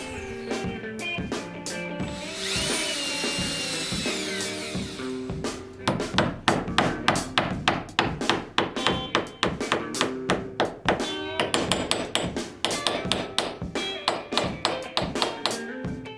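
Hammering fastens nails into wooden boat planking: a long run of sharp, rhythmic taps and thuds, close and loud, following an initial stretch of slower knocks with a brief scraping rustle.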